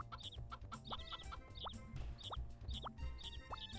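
Farm chickens in Harvest Moon 64 cluck in quick, regular, chiptune-like blips over a soft background, repeating evenly for several seconds without any talk.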